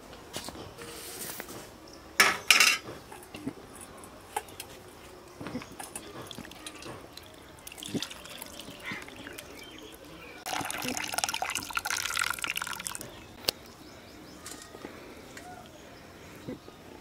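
Curdled milk is strained through a cotton cloth and sieve for homemade mozzarella pizza cheese, giving close, uneven dribbling and splashing of whey with a steadier pouring stretch midway and occasional clinks.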